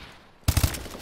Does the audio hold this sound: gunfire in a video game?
yes